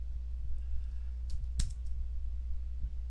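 Faint keyboard typing while entering code, a few soft scattered clicks with one sharper cluster of keystrokes in the middle over a steady low hum.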